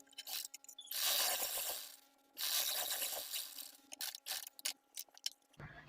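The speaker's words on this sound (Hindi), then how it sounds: "यहाँ पर सबसे पहले हम एक पैर की सिलाई लगा लेंगे।" A sewing machine stitching fabric for a dress, with bursts of fast mechanical whirring and clatter broken by short pauses, clicks and handling noises, close and moderately loud, with no talking.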